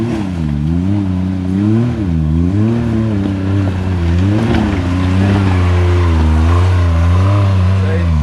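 Off-road vehicle engine crawling up a rocky trail, a steady loud drone with wavering pitch as the throttle rises and eases, close and continuous.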